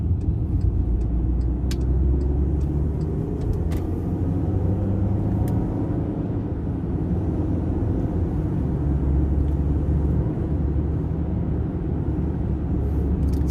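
A 2012 Volkswagen Tiguan 4Motion accelerates briefly, heard from inside the cabin as a steady, loud low engine drone and road rumble that rises gently and smoothly rather than aggressively, with no talking.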